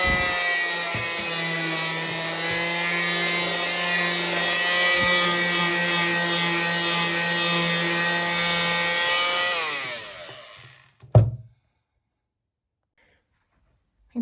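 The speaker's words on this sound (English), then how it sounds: "I've sanded all the sides and just scuffed them up." Powered sanding along the edges of painted stair treads, a loud steady motor whine with grinding texture running continuously for about ten seconds, then cutting off, followed by a brief knock and silence.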